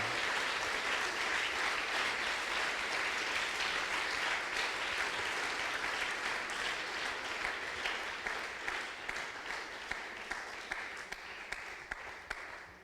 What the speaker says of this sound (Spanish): Dele ese aplauso al Señor Jesús, hermano, con toda su alma